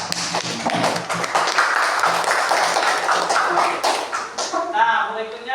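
A classroom of students claps for a classmate, a burst of quick, close, uneven hand claps that runs for several seconds before fading, with voices speaking over and after it.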